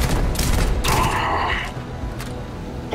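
Gunfire in the video game Starfield roars loud and close, with a dense sustained volley of shots that briefly swells into a heavier burst before trailing off.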